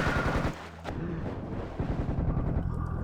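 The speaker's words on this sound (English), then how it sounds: "I'm shooting at armor thinking it's a fish" Gunfire in Serious Sam: The First Encounter, loud close shots and rapid repeated bursts over a low rumble, with a brief dip partway through and no talking.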